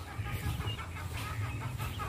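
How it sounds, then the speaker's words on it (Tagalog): Chickens cluck softly and repeatedly nearby, a low, irregular chatter of several birds against faint background noise. "Ang kanyang mga alagang manok."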